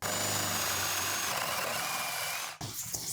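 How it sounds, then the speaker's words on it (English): Power drill with a jig boring a concealed hinge cup hole into a wooden cabinet door, a steady whirring grind that stops abruptly near the end, recorded close and moderately quiet. "You only need to drill to the depth of the cup hole"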